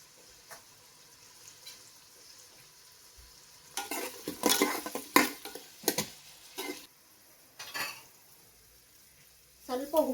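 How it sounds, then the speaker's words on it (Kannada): Sliced onions fry in a pan with turmeric and salt, a soft sizzle broken by loud scraping stirs and spoon clatters against the pan in uneven bursts, close by with occasional speech. "ಈಗ ಇದು ಆನಿಯನ್ಸ್ ಫ್ರೈ ಆಗಲಿ"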